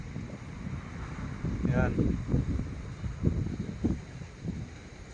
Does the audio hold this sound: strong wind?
yes